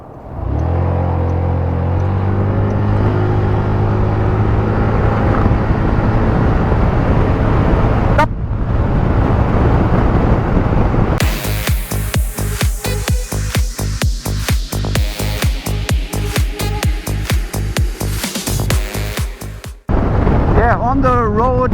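A 2025 Zontes 368G motorcycle accelerates hard from a standstill toward 100, its engine note rising in strong pulls. Crisp gear changes break the run about halfway, followed by a sharp staccato exhaust burble. A brief lull comes near the end, then the engine picks up again.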